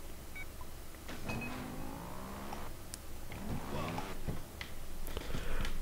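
Motorbike engine in Trials Evolution revving in rising whines as throttle is applied, several surges in a row, fairly close and loud, with a rattling mechanical undertone.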